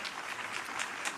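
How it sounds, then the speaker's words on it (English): Brief burst of audience clapping at an environmental awards ceremony, a dense even patter of many hands, moderately loud and with no voices over it. "Let's get another round of applause for Lee and Marissa"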